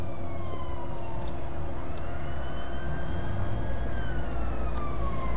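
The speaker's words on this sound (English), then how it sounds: "You hear the sirens?" Sirens wail steadily in the distance, their rising and falling tones drifting over a constant low rumble of traffic-like noise.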